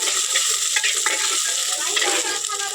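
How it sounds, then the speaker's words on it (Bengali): Ginger and garlic frying in oil in a clay pot, a dense close sizzle with brisk stirring scrapes and small crackles, steady throughout and free of talk. "আদা রসুনটাকে ভেজে নেবো ভালো করে, লাল তেল পরিমাণ মতো অল্প করে নুন দিয়ে দেবো। ভালো করে ভেজে নেবো।"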